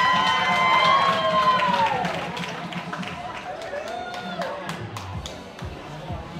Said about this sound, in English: Please give a big round of applause for our Class 1 winner